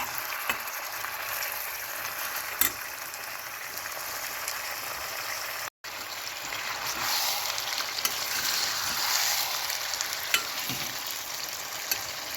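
Mutton gravy curry bubbles and sizzles in a pan over a medium flame, a dense continuous frying hiss with occasional faint clicks, steady and unbroken, no talking.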